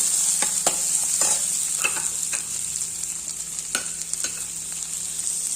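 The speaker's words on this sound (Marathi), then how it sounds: "कांदा सुद्धा आपण परतून घेऊया" Onion sautéing in a pan for a Maharashtrian spinach and buttermilk curry, a steady low sizzle with a few scattered scraping stirs of a spoon, close and alone with no talk.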